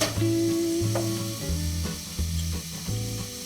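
Chopped garlic and cotechino sizzle in a pan, a soft steady frying hiss broken by a few stirring scrapes, heard alone and up close.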